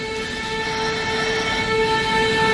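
A train in a dubbed action film scene, a loud continuous rumble with steady sustained horn-like tones held throughout, no voices.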